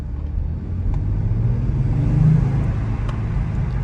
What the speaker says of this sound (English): I'm gonna do a couple accelerations now so you can hear what minimal turbo noise you hear